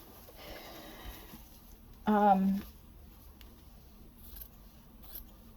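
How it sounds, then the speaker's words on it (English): Scissors cut a small fabric circle for a layered fabric flower, making quiet close snipping and rustling sounds with a short, louder tonal burst partway through. "I'm going to cut one more circle so that I can make a 3-layer flower."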